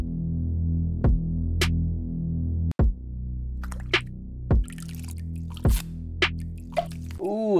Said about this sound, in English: like a sexy little water loop